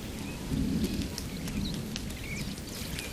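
Rain falls steadily in Kazinga, Uganda, with a low rumble of thunder beneath it, a dense hiss of drops and a faint bird call or two.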